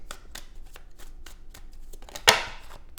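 Tarot cards riffle and slap in a steady run of quick shuffles, close and clear, ending with one sharper snap as a card is drawn.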